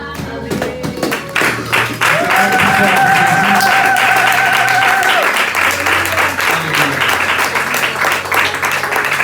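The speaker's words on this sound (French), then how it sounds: "Est-ce qu'on peut acclamer pour Jésus?" A church congregation at a Sunday worship service breaks into loud, sustained applause and cheering for Jesus, a dense wash of clapping with a held keyboard chord ringing above it.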